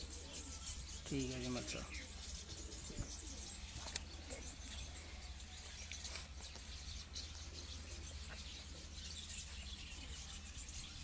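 Dera pigeons kept by a fancier in Sheikhupura give a short burst of low cooing early on, then fall quiet under steady background hiss while someone talks nearby.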